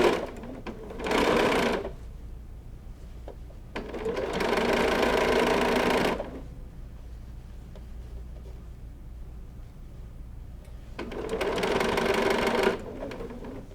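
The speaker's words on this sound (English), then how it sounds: "then you're just going to keep sewing all the way down" Sewing machine stitching lace binding onto quilt fabric, running in three loud bursts of steady mechanical whirring with quiet pauses between them, close up with no talk.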